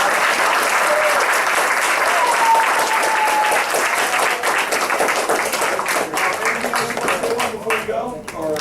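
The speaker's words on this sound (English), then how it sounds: "give them a great applause" A crowd applauds loudly and continuously, dense clapping that thins slightly toward the end as voices begin to cheer and talk.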